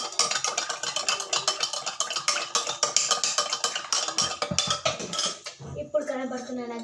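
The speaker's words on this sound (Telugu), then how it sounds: "ఇదైతే మిక్స్ అయ్యేదాకా కలుపుకోవాలి గైస్" A utensil stirs a mixture in a bowl with rapid, rhythmic clinking and scraping, close and fairly steady for several seconds before easing into a few slower knocks and a faint voice at the end.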